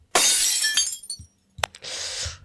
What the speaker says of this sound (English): That sounds like a vase.